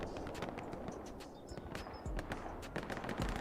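Machine gun fire in the World War II shooter Hell Let Loose during a team match on Sainte-Mère-Église: faint, distant bursts of rapid shots crackle over a dense, rumbling battlefield backdrop, with no talk.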